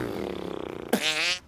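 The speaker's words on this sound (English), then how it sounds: "It's mighty fine farting" A single fart rumbles out as a buzzy, fluttering drone, then ends in a louder, sharper blast before cutting off, close and clear with no talking.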